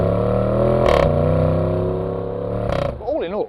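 A 2021 Range Rover Sport SVR's quad exhaust revs up loudly and holds, with two sharp bursts punctuating the roar before it drops away, followed by a brief voice.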